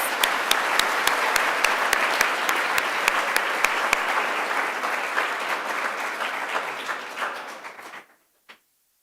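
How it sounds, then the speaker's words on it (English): A school audience at a 7th grade awards ceremony applauds in a full, sustained round of clapping that stays loud for about eight seconds, then cuts off abruptly, leaving silence and one brief late sound. "Let's give them all one more round of applause."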